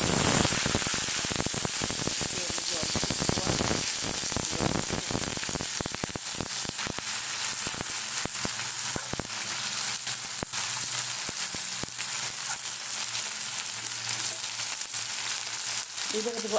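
Onions sizzling in hot oil with whole spices for a Bengali potato dish, a steady hissing fry with occasional crackles and stirring scrapes, close and continuous.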